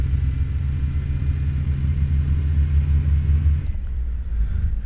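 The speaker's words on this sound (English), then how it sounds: "We got YoAdrian coming through town with the Jake brakes on" In American Truck Simulator, a heavy truck's Jake engine brake rattles through town in a loud, low, steady drone, cutting off abruptly near the end as a high whine carries on.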